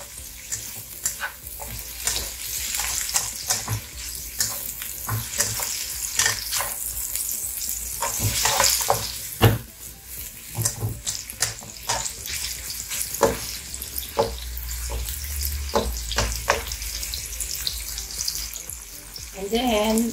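White onions sizzle and fry in a pan while being stirred for pork binagoongan, a steady crackling hiss broken by scraping stir strokes, with occasional clinks and a brief splash of water.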